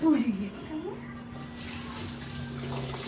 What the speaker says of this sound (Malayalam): ഫസ്റ്റ് നമുക്ക് കഴുകാൻ നല്ലപോലെ കഴുകാം